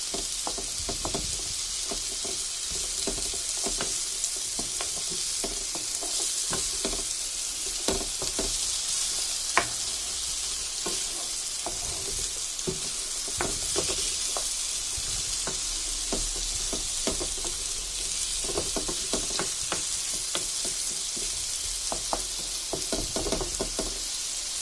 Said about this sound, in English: We'll let the pumpkin fry for some time.